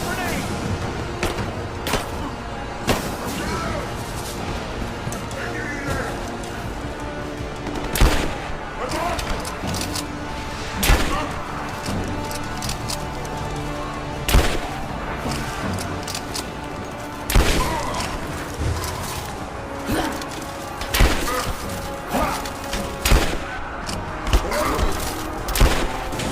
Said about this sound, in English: Grenade out! Man down! Throwing a grenade!